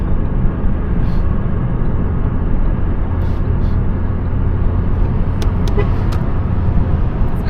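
A Ford Focus 1.6 running on LPG cruises along an open highway, a steady engine hum and road rumble filling the cabin throughout.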